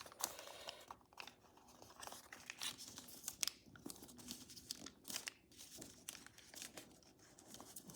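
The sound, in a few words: paper being folded into origami dragon scales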